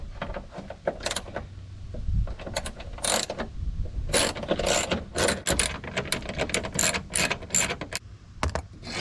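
A hand ratchet works half-inch bolts loose on a 2003 Chevrolet Silverado during rust repair, producing a steady run of close, loud clicking ratchet strokes in irregular bursts with no talk.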